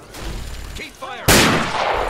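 Fallout 3 combat: a brief stretch of muffled game noise, then a sudden loud, close blast of gunfire that sustains a harsh, dense crackle to the end.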